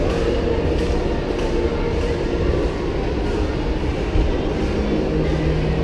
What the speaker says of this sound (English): You can see the train is waiting.